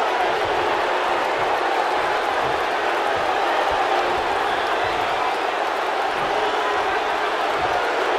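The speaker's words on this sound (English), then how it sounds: "the crowd's on the edge of their seats." Wrestling arena crowd at a Brock Lesnar versus Bobby Lashley World Championship match, making a dense, steady roar of cheering and noise that fills the space, with a commentator talking over it.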